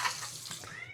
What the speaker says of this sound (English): That is my cat moaning for her dinner.